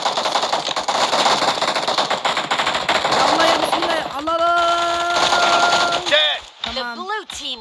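Rapid automatic gunfire in a PUBG video game match, loud dense bursts with game tones and electronic beeps toward the end, mixed with a player talking over it.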